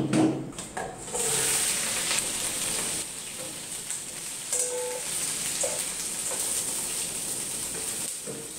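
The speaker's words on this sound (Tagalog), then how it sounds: "Pag mainit na yung wok nyo, lagay nyo na yung shrimp nyo." Shrimp frying in a hot wok, a steady close sizzle with a louder burst near the start, then continuous crackling and occasional clinks from the pan.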